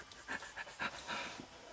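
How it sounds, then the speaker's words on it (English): A dog pants steadily in quick, rhythmic breaths, close and fairly quiet, with no voices over it. "Here's the dog."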